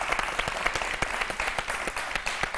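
A crowd applauding steadily, dense overlapping claps filling the whole stretch at moderate volume, with no voices on top.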